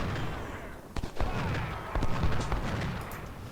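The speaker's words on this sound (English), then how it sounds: "And enemy artillery is opening up." Enemy artillery opens fire during the 2nd Battle of Bull Run in Ultimate General: Civil War, with scattered cannon booms and crackling shots over a steady battlefield rumble.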